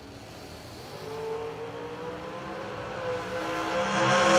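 Drag racing dragsters launch down the strip at Galot, among them Tom Pistoli's Jegs.com dragster. Engines roar at a moderate distance, rising steadily in pitch and growing louder as the cars accelerate away.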